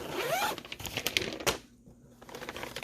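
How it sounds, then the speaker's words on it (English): A zipper on a snowboard boot backpack is pulled in a few quick ripping bursts near at hand, followed by a brief quiet gap and light handling noise. "Got a really nice zipper."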